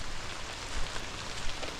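Rain falls steadily outdoors during bluegill fishing, a dense even hiss with scattered soft patters, close and continuous with no talking.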